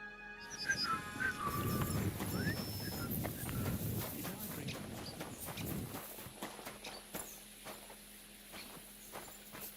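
A horse-drawn wagon rolling along in Kingdom Come: Deliverance 2, with soft clip-clop of hooves and creaking wheels under a steady outdoor ambience, moderately close and fairly faint, with occasional light clatter.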